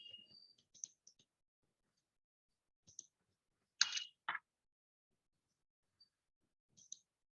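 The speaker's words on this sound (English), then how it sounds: "whenever you are clicking on a baseline" A computer mouse clicks while someone works through a project accounting budget screen. The clicks are faint and sparse, a few light clicks scattered over several seconds in a quiet room.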